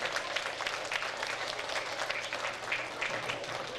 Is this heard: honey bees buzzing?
no